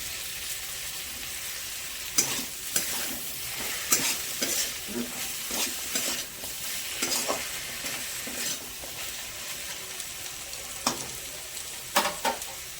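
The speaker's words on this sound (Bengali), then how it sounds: "ভালো করে নেড়েচেড়ে এবার হতে দেবো।" Chopped capsicum and tomato fry in a pan for chicken stew, a low sizzle broken by repeated sharp scrapes and clatters of a spatula stirring, close up.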